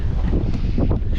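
Strong, cold storm wind gusting past the microphone on an ancient street in Turkey, a loud, continuous roaring rush of buffeting air up close.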